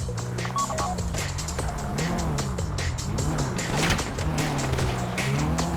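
Car driving in GTA V with repeated tire squeals over a steady engine hum, loud and close, with no voices.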